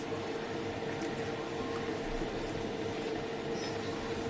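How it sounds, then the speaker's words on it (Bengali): Water boiling in a pot set up for steaming hilsa fish in mustard oil at home, a steady low bubbling and hiss that holds level and continuous throughout with no talking. "জলটা ফুটে গেছে।"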